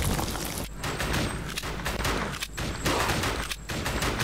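Rapid gunfire fills a Sega remake video game, close and loud, with dense continuous shots broken by a few brief gaps and no voices over it.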